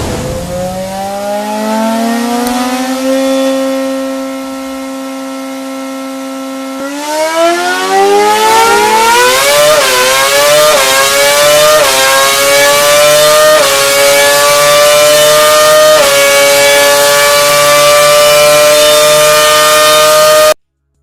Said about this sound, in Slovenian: si najprej poslušajmo, kako je zvenel ta tip motorja sploh na tisti preizkuševalni mizi